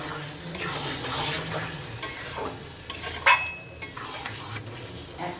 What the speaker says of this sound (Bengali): আমি আর একবার লেড়ে দেবো।